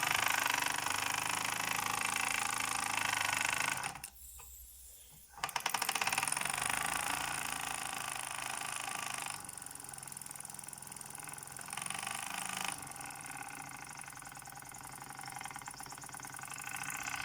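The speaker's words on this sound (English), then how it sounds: "safety valve's popping off" The safety valve on a Mamod SA1 Roadster toy steam car vents a loud, continuous hiss of steam that cuts out briefly, then resumes and wavers in strength.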